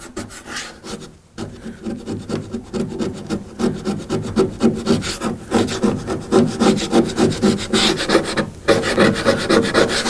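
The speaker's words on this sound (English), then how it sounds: "I'm going to keep sanding and see if we can get most of it off with the sander" Power sander working over the wooden panels of a Mortal Kombat II arcade cabinet, stripping stubborn old artwork; a steady close abrasive whir with rhythmic pulsing strokes, briefly pausing twice, with no talking.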